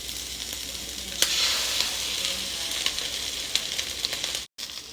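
An egg fries in a hot pan alongside teriyaki chicken fried rice, giving a steady close sizzle with occasional clicks of a utensil, no talk, and a brief dropout near the end.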